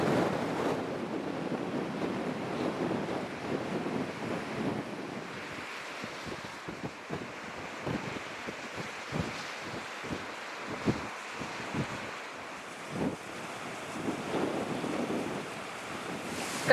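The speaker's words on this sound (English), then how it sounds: "the water is freezing cold and then the wind is getting stronger" Strong gusty wind buffets the microphone beside cold open sea water, with waves washing and surging throughout, alternating rumbling blasts and calmer stretches.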